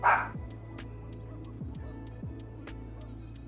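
Real dogs bark indoors: a loud yip at the start, then a string of fainter, distant barks and whimpers scattered over a steady low hum, with no talk.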